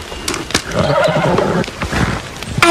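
Horse whinnying loudly in a stable scene from an animated series about horse riding, with hoof clops and stable noise around it; no talk.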